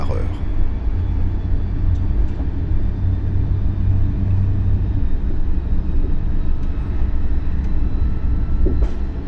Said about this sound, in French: Nous circulons à présent en marche normale, sans dépasser la vitesse de 30 km/h.